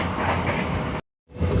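Inside an extra PSE-SMC passenger train running from Pasar Senen toward Semarang, a steady rumbling ride noise fills the carriage, cut briefly by a short silence before resuming.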